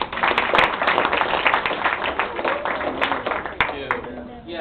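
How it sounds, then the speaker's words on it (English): A high school audience at a career day breaks into scattered applause, a crowd of hands clapping at moderate distance with a few sharper claps, and a voice speaks over it. "So give him a round of applause."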